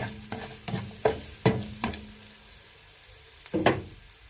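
Fresh sliced coconut sautéing with okra in a pan: a soft sizzle under a series of sharp spatula scrapes and knocks, about seven strokes at an uneven pace, close and without talk.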